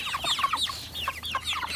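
Meat chickens on a farm cluck in quick, overlapping bursts, several close birds chattering busily in a short stretch with no voices.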